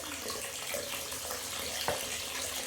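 Water running from a tap into a filling bathtub, a steady close rushing splash that holds at an even level throughout with no talking.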